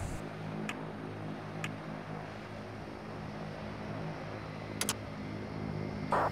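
Steady, droning engine noise from a BAe RJ70 jet's engine 1 spinning up in a flight simulator at a Dublin airport gate, filling the whole span with a few faint clicks on top.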